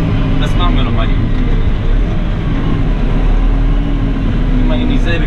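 A McCormick X4.70V tractor engine works under load on a fruit farm after a shift from second to third gear, giving a loud, steady, close diesel drone.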